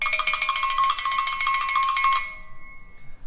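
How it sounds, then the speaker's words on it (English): A pair of bells is struck between the two bells for a doubled pitch, giving rapid bright metallic ringing that stops abruptly and leaves a faint fading tail. "or in between the two bells to create a double pitched sound."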